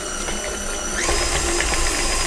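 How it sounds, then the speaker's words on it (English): Electric mixer whisking butter into chocolate cake frosting, a steady close mechanical whir with a rattling edge that steps up in pitch and volume about a second in, with no talking. "reduce the speed and add the butter into there and whisk with the butter"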